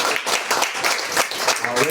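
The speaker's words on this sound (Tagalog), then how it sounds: "Malakas na palakpak po para po sa ating Panginoon" A church congregation claps loudly for the Lord during a worship service, with quick, uneven bursts of hand claps close by and a voice speaking over the clapping.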